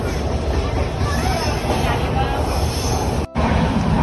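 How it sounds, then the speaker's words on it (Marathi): A loud, steady rumbling roar of a train running through a tunnel, continuous throughout, with a brief sharp dropout near the end. "आत्ता बोगदा आलाय ट्रेन मध्ये. आवाज येतो"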